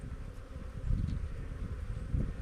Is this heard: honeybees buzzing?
yes